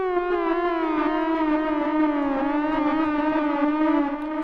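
A gliding mono synth plays a melodic line of short high notes, its pitch sliding continuously between them in a wavering, siren-like sweep, loud and steady with no voices.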